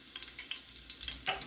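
Ground beef fries in a pan, giving a soft, continuous sizzle with light crackles and a few brighter pops.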